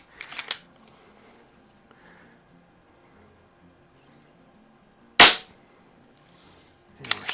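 An Umarex Zelos air gun fires a single sharp, loud crack over a chronograph amid near silence, with softer mechanical clicks at the start and end.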